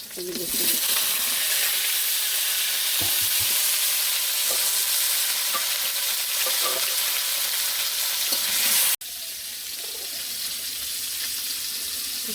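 Potatoes frying in a pan in a village kitchen, a dense, steady sizzle with occasional stirring knocks, briefly cutting out and resuming slightly quieter, no talking audible.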